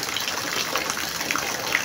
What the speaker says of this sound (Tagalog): Kasi sobrang lakas na naman po ng ulan.